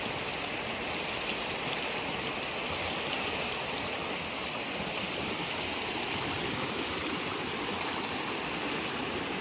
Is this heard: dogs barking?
no